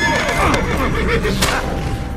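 A horse whinnies loudly over busy Assassin's Creed game sounds, with clattering effects and some voices mixed in.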